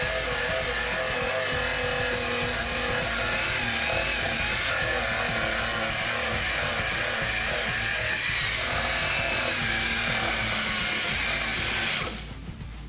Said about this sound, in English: It's a wire wheel. It's made by Snap-on.